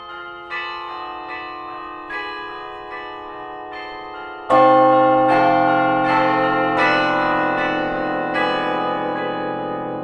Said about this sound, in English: Listen to that passage on bells.